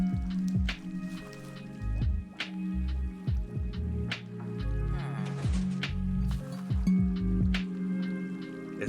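Drinking water from a new water bottle, with repeated wet squishing gulps and drips in an irregular rhythm, close and fairly loud.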